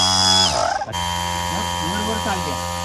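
A tyre air-filling machine whines and buzzes steadily at close range, its pitch dropping before settling into a constant drone. Voices talk over it.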